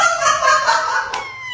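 A pet parrot makes loud, warbling calls and squawks that run continuously through the moment and tail off into a brief sharp note near the end, close to the microphone, with no talk.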